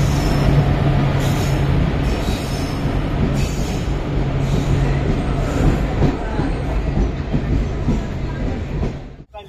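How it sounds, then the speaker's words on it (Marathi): A Konkan Railway passenger train rumbles and clatters steadily on the rails arriving at a station, a loud continuous roar with rhythmic wheel knocks that cuts off abruptly at the end. "फायनली ट्रेन आली आमची"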